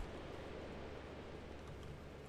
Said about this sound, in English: Or no, it's raining outside.